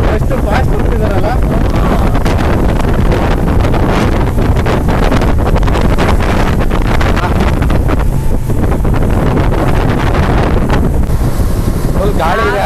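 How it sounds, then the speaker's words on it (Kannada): Strong wind roaring across the microphone during a fast private boat ride, with constant loud buffeting, the boat's rush over water and voices talking underneath throughout. "ಫುಲ್ ಗಾಳಿ ಇದೆ ಆದ್ರೆ"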